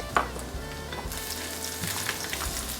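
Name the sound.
frying chopped garlic in a pan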